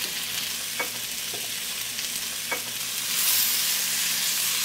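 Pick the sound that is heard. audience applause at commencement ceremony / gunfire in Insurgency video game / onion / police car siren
onion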